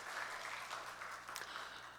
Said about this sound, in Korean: 우리 찬양 받으신 주님께 감사의 박수.